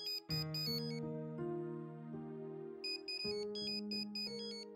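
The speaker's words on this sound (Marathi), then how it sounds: "ए आदित्य, माझा फोन घेशील प्लीज?" A mobile phone ringtone plays a bright electronic melody, clear and fairly close, with repeating tonal phrases and no voices.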